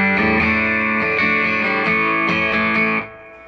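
Electric guitar played through a Fender Deluxe Reverb Tone Master amp pushed into breakup, a run of loud, gritty chords with a rhythmic pulse, ending in a brief fading ring of reverb.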